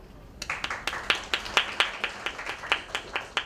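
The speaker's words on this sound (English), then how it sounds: "A round of applause everyone." At a medical quiz, a few people clap sparsely and unevenly, distinct sharp hand claps spaced out and fairly faint, with quiet room tone behind.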